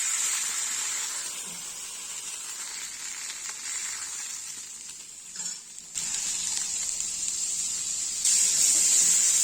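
Boiled beans shallow-fried in oil with a tempering give off a steady bright sizzle and hiss, close and continuous, briefly dipping midway and swelling louder toward the end, with no talk.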